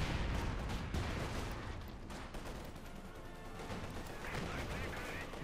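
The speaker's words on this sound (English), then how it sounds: "Turning into them with the 2 centimeter cannon." Rapid 2 cm cannon fire rattles in Company of Heroes 2, bursts of sharp shots over a battle din, loud and close, without speech.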